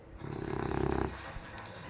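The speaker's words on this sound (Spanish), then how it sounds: "Estás roncando mucho." A bulldog snores with a rasping, rhythmic rumble, close and fairly quiet, swelling over the first second and then trailing off into softer breathing.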